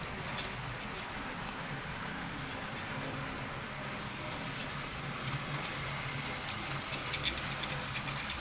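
Model Christmas trains, a Centenary locomotive, a Coca Cola train and a Santa Express, circling a layout loop with a faint continuous rumble of running wheels and motors, quiet and steady throughout.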